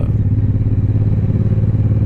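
A Suzuki M109R motorcycle rumbles steadily while being ridden, a close, loud, low engine drone with a fast pulsing beat and a faint clatter underneath, heard alone.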